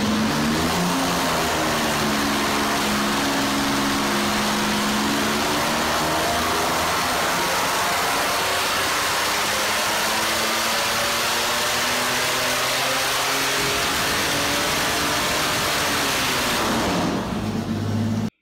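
A supercharged 4.3L Chevy V6 from an Astro van runs on a dyno, a loud, steady engine drone whose pitch rises and sweeps through the run before cutting off abruptly at the end, with no talking.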